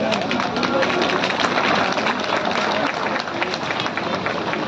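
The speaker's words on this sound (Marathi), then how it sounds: "सर्वांनी टाळ्या" Loud sustained applause from a large crowd at a Manav Dharma devotees' gathering in Palandur, dense and continuous with general crowd noise underneath.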